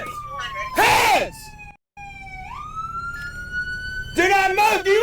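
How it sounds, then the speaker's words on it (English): A wailing police car siren rises and falls steadily close by, cut off briefly before resuming as shouted commands break in at the start and again near the end. "Cut your siren."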